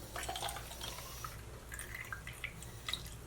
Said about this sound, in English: I'm going to go ahead and put water in it again.